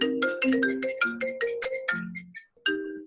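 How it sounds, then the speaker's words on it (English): A phone ringtone plays a bright, repeating melodic pattern of quick tones, clear and alone, stopping briefly before starting again. "I got phones ringing"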